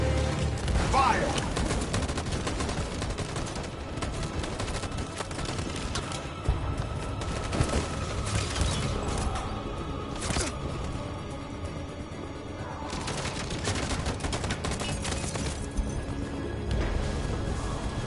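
Heavy gunfire in a PS4 video game, rapid bursts and volleys cracking almost continuously, with crashes and loud impacts throughout and a voice briefly heard among the shots.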